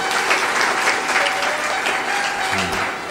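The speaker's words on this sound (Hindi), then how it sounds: "जोर से ताली बजाओ" A large audience at a Hindi spiritual discourse claps loudly and continuously, a thick, close roar of many hands that holds steady before easing slightly at the end.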